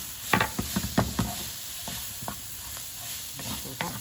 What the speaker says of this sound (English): what I'm going to do now is add my garlic.